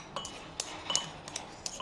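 Metal clinks and clatters from a Le Creuset pot being handled during pizza cooking, several light separate knocks and chinks in a quiet kitchen, near and fairly soft.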